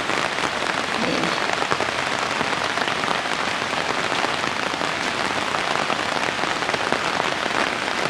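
Steady rain falls on vegetable plants in a garden, including phak khao thong and phak i-tu, a dense continuous patter of drops close by with no pauses and no voices.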